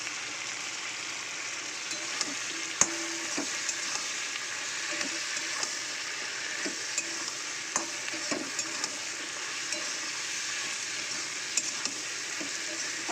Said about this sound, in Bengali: একটু তেলে ফ্রাই করে নিই